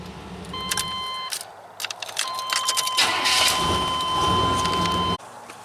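A 1993 Chevrolet C1500 pickup engine starts and runs steadily nearby, with a constant whining tone and some clicks and jangling at the start.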